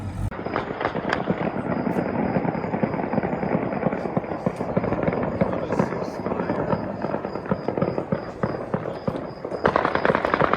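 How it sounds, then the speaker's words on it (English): Celebratory gunfire in Taltamer, Syria, after a ceasefire announcement: dense, continuous crackling volleys of shots at a distance, steady and loud throughout, with no pause. "We're hearing lots of celebratory gunfire"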